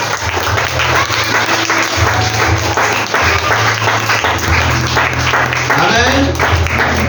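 A church congregation breaks into loud, sustained applause and clapping that runs steadily throughout, with voices mixed into the crowd noise.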